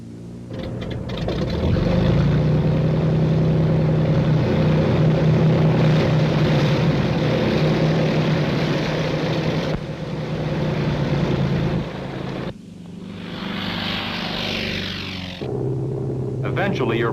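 A T-28 propeller training aircraft drones with a steady, loud rumble and hum that shifts partway through, while someone narrates over it.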